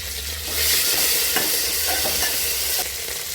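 Curry leaves and crushed green chilli fry in a pan for North Karnataka coconut milk sambar, giving a steady, loud sizzle with a few scraping stirs.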